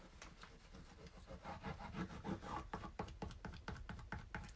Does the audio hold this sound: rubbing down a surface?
yes